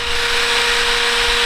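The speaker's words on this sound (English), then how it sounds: "the next step is going to be drilling out these templated holes" A power drill bores templated mounting holes through a front lip spoiler for a G87 BMW M2, giving a steady, loud, continuous whine with a constant pitched hum for the whole stretch and no talking.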